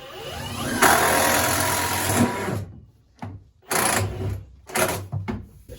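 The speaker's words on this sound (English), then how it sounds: "right now I'm putting a screw through the top rim of this barrel, so thick as plastic, and into this 1x and into this 2x4" A power drill drives a screw through the thick plastic top rim of a barrel, through a 1x board and into a 2x4 on a goat kidding pen: a loud, steady whirring burst for about two seconds, then several shorter, choppy bursts of drilling.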